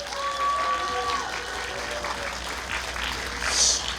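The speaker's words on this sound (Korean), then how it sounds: "여러분 다시 한번 큰 박수" An audience claps at an outdoor civic cultural festival in Changwon, Korea, a moderate, continuous patter heard with a voice talking and a brief tone over it.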